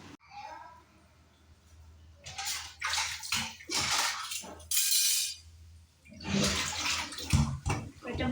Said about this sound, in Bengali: একটা বাসন ধুয়ে নিই